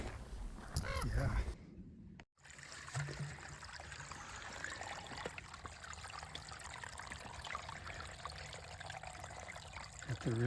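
Small creek on the Appalachian Trail trickling and pouring steadily, a close continuous wash of flowing water while bottles are filled, with a brief handling clunk near the start.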